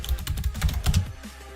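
Fingers tap out a brisk run of keystrokes on a computer keyboard, close and steady for a moment before easing off, with no voices.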